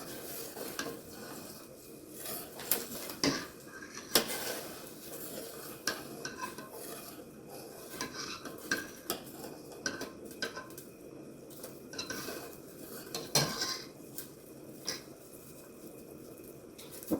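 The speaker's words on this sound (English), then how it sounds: "you want to just wait and continue stirring until it comes to a boil again" Metal utensil stirring and scraping in a pot of boiling chicken and dumplings, with irregular clinks and knocks and a soft bubbling background throughout.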